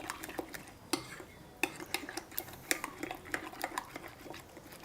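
A yogurt and spice mixture for Jodhpuri chana dal is stirred with a utensil in a bowl, giving a quiet run of scraping clicks and taps at an uneven rhythm, close by, with no talk.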